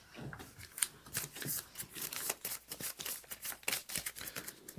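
Playing cards shuffle close by during a deck-building card game, Aeon's End The Descent, a steady run of quick riffling flutters and soft slaps over several seconds.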